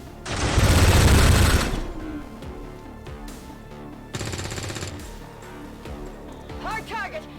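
Enemy machine gun fire in XCOM 2: a loud, dense burst of rapid automatic rounds, then a second, quieter burst a few seconds later, with voices in between.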